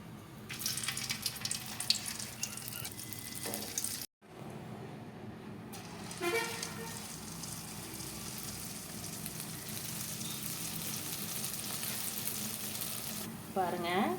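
Jangiri batter sizzles and crackles in hot oil, a steady, quiet hiss of frying with a brief break and a few scraping sounds.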